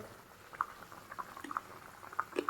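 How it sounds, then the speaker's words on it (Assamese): Soft bubbling and popping of a pot of fish curry simmering on the stove, quiet and close, with irregular small bursts. "পূৰা পানীও দি দিলোঁ আৰু উতলি আছে খুব ধুনীয়াকৈ।"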